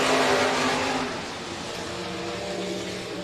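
Stock cars heat racing at Crawford County Speedway, a loud, dense roar of several engines at full throttle that dips slightly in level as the pack moves along the track, with no talk heard.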